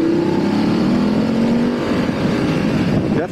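A 2019 BMW F 850 GS motorcycle is ridden and accelerates, a loud continuous engine drone rising in pitch with wind rush around it, steady and close throughout.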